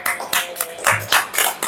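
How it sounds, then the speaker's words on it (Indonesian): A group claps together at a morning health and nutrition education session, with short bursts of applause rising and falling close by and no talk over them. "Tepuk tangan buat kita semua."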